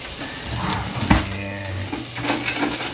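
Onion sizzles steadily in a pan for a pochero dish, a continuous close crackling hiss with occasional stirring clinks and a brief sharp knock.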